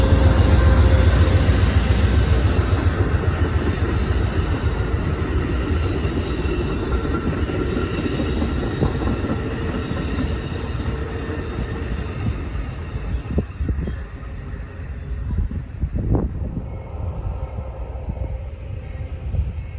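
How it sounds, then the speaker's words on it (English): An Amtrak passenger train from Washington, D.C. to Chicago passes through Northern Indiana, a loud sustained rumble and roar that starts close and slowly fades as it moves away, with a few rattles near the end. "This Amtrak train comes from Washington, D.C. and terminates in Chicago, Illinois"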